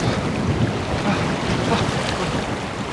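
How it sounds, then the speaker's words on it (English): Wading across a cold mountain river in the remote Cairngorms while wearing Crocs, heard as continuous broadband rushing water with splashing and wind noise on the microphone, loud and close throughout. "Now it's time to attempt this river crossing."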